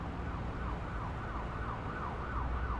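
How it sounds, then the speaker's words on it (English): An American emergency siren in Microsoft Flight Simulator 2024 wails in a steady, repeating rise-and-fall pattern, heard at a distance over a constant low engine and wind rumble. "There's some American siren tones going on over here."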